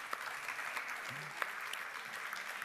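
A round-table audience claps briefly to welcome a late-arriving participant, a soft, fairly distant patter of applause filling the short moment.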